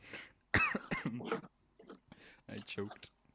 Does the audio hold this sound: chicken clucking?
no